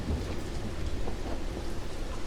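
Steady rain pours with low rumbling thunder in a storm sound effect, soft and continuous with no voices.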